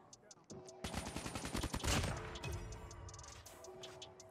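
Call of Duty Mobile gunfire from a gold KN-44 rifle, a fast run of sharp shots building into a heavy burst, then tapering into scattered distant pops and game effects.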